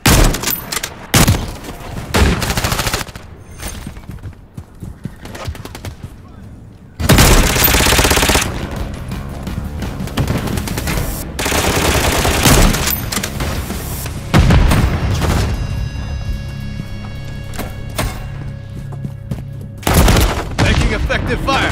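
Call of Duty gameplay with loud, dense gunfire: rapid automatic bursts and sustained volleys, with booming impacts and game voice callouts mixed in.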